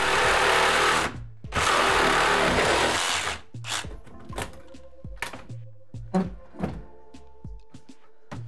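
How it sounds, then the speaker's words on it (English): Reciprocating saw cutting through wooden closet framing during a hallway demolition, two loud sustained bursts of buzzing, then scattered knocks and thuds as the framing shifts. "You can get a sawzall blade right in there. Let's cut this chunk of framing out here."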